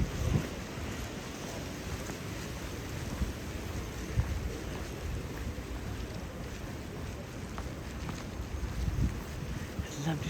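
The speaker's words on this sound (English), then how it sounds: "hear the wind" Steady, rushing wind roars close to the microphone at Sirmione on Lake Garda, Italy, broad and blustery, with gusts rising and falling throughout, in rain.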